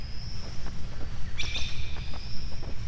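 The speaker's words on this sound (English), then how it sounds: "Shut up, bird." A bird calls outdoors in woodland, a few short high chirps standing out over a steady background hum and faint rustling.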